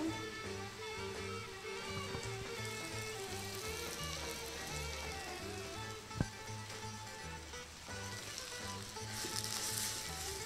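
Chopped, cleaned spinach, apparently frozen and blanched, sizzles steadily in a hot frying pan, a continuous crackling hiss with a single sharp tick partway through.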